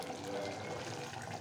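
Water from a mixer jar that held gravy for mutton is poured into a pressure cooker, a faint, steady splashing and trickling stream.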